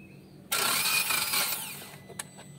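A Toyota Calya engine is cranked with the starter while being checked for a spark plug fault, giving a loud, sudden whirring burst that runs about a second and then fades.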